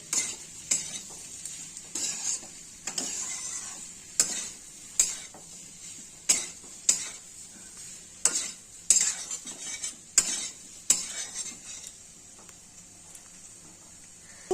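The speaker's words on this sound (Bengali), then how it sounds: "ঠিক এইভাবে ভাজতে হবে, তাহলে তরকারিতে স্বাদ আসবে" Cauliflower and soybean curry frying and being stirred in a pan, with a steady loud sizzle under repeated scraping strokes of a spatula against the metal, no talking.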